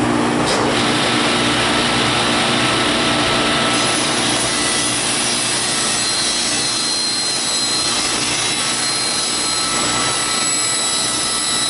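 Saw ripping a long cut through wood to make a taper jig, a loud, steady grinding whine that holds unbroken throughout with no talk.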